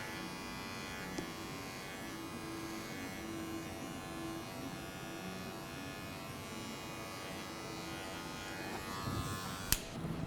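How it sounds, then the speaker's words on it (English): Electric hair clipper trimming a beard gives a steady, close mechanical buzz that hums continuously at low level, with a small click near the end and no talking. "running the clipper with the grain of the hair to take off some of those little stragglers."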